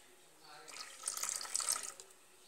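Lysofol cleaning liquid pours into a plastic bowl of water, a soft close splashing trickle that swells for about a second and then fades.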